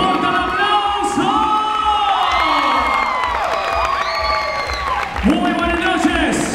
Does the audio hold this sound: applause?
yes